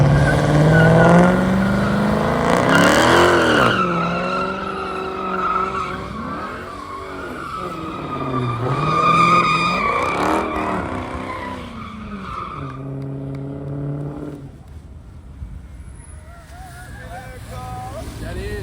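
Dodge Charger Scat Pack drifting in a thunderstorm, engine roaring and tires skidding loudly across wet pavement for a long stretch, pitch rising and falling with each swing, with people shouting over it.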